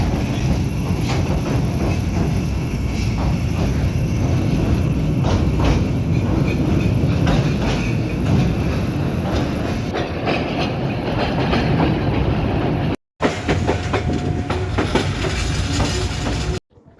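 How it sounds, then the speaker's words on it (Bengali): The Kalni Express passenger train crossing the Kushiyara bridge near Fenchuganj, a loud, continuous rumble with rhythmic clickety-clack of wheels on rails, heard from inside the carriage, with a brief dropout near the end. "আমাদের ট্রেনটি বর্তমানে কুশিয়ারা ব্রিজ পার হচ্ছে"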